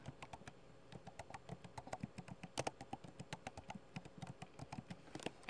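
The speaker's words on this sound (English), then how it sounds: "So I'm going to open my quotes and type securities brokerage." Steady typing on a computer keyboard while entering a spreadsheet formula, a brisk run of close, light keystrokes for several seconds with no talk.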